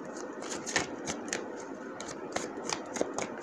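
Cards are shuffled and drawn from a deck during a tarot-style reading, giving faint, close-up papery flicks and soft taps in an irregular rhythm in a quiet room.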